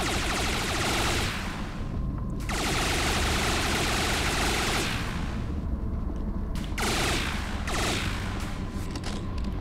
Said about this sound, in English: what happens if you shoot that a lot?